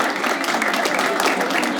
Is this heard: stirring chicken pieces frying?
no